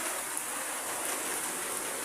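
Heavy rain pours down in front of a roadside shop near a school in Sonargaon, a dense, steady roar of water hitting surfaces with no letup and no voices.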